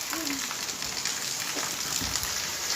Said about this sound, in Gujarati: અમારે વરસાદ બહુ હે